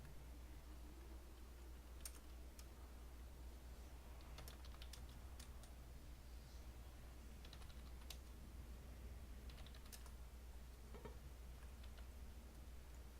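Keystrokes on an iPad touchscreen keyboard tapping in scattered bursts, faint and close, over a steady low hum with no talking.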